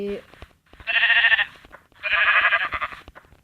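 Two bleats from a sheep in the video game Minecraft, each a loud, buzzy, wavering cry lasting about half a second to a second, separated by a short pause, with faint game noises in between.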